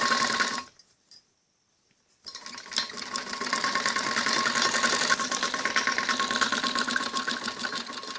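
A sewing machine stitches the zip strip on a kameez back neck, running briefly, cutting out for about a second and a half, then whirring on steadily and close for the rest.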